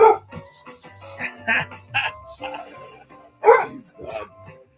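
Several excited dogs bark and yip in short bursts as they race around with the zoomies, fairly close and loud, mixed in with someone talking over them.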